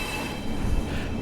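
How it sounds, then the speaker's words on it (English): Flange squeal from the wheels of an ex-Arriva Transport for Wales Class 142 Pacer train braking on a 20 limit in a Cardiff rail simulation, a thin steady metallic whine held over loud continuous rumble of the railcar. "This is a lot more flange squeal than"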